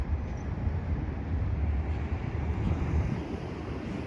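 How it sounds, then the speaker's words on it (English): Amtrak San Joaquin train 714, southbound to Bakersfield, passing through a downtown, heard as a loud, steady low rumble and rush close by with wind buffeting the microphone throughout. "Here comes San Joaquin train 714. Your southbound train to Bakersfield."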